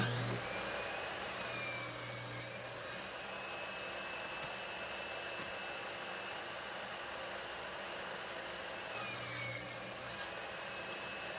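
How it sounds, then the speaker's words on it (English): A table saw running a crosscut sled through wooden boards makes a loud, continuous high whine, with short deeper cutting passes near the start and again near the end. "I used my crosscut sled to square up both edges here."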